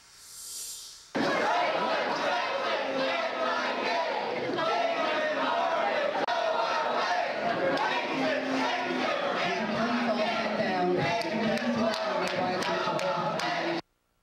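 A protest crowd at Emory University chants continuously and loudly, with dense overlapping voices, clapping and cheering that fill the whole stretch before ending abruptly.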